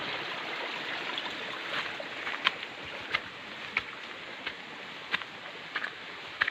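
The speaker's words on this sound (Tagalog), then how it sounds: "ito talaga daan na ang agos ng tubig dito" Water streams steadily past a small irrigation dam in farmland during light rain, a continuous rushing wash with scattered faint clicks and ticks above it and no voices.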